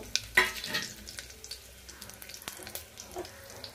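Whole biryani spices drop into hot oil and sizzle, with a burst of crackling frying at the start that fades to a softer hiss and occasional stirring clicks, close and moderately quiet.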